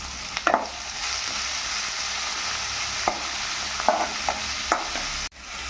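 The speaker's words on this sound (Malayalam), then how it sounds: "ആവശ്യത്തിന് ഉള്ളിയും കറിവേപ്പിലയും ചേർത്ത് നന്നായി വഴറ്റിയെടുക്കുക" Ginger, garlic, dried chillies, onion and curry leaves sauté in a hot pan for a Kerala dish, giving a steady close sizzle with a few scraping stirs of a spoon.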